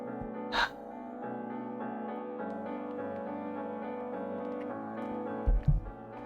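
A character in the visual novel Fata Morgana gasps for breath during a panic attack: two or three sharp, breathy inhalations, one early and a cluster near the end, heard over sustained soft music.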